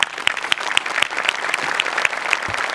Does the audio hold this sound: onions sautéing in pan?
no